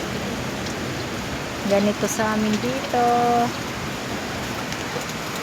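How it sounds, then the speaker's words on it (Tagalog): Heavy rain pours outside in a constant loud hiss that runs throughout, while a person briefly speaks over it partway through. "Oh, laban na laban ang ulan."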